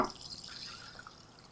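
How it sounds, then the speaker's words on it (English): Water trickles into a bowl of mung beans, a soft drip and splash that is strongest at the start and fades out over a second and a half. "So these here I'm going to cover with water."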